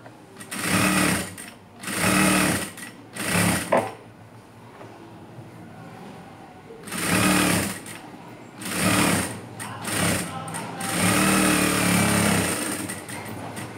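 A sewing machine stitching a simple blouse runs in short bursts of rapid mechanical clatter, with pauses between seams and a longer continuous run near the end, close and clear.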